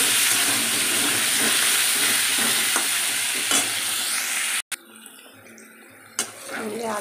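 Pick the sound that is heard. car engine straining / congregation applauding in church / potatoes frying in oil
potatoes frying in oil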